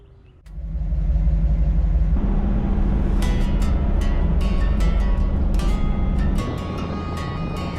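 Hot rod engine starts up and settles into a loud, steady low rumble while driving to a car show, close and continuous with small shifts in pitch and level, no talk.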